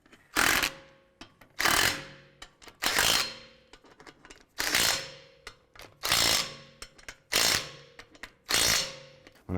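A ratchet snugs down the wheel lug bolts on a Volkswagen Jetta in a run of about eight crisp clicking bursts, each followed by a short pause, close and fairly loud.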